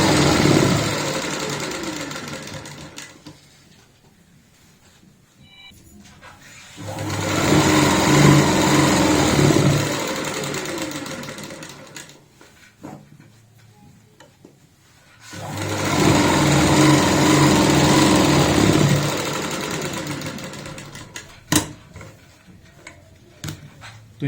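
A sewing machine stitches elastic into the waistband of palazzo pants, running in two long steady bursts separated by quieter pauses, loud and close with a fast mechanical hum.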